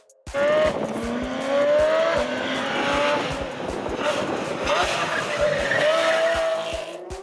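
A sports car engine revs hard and loud through rising gears, the exhaust snarling and crackling close up for several seconds.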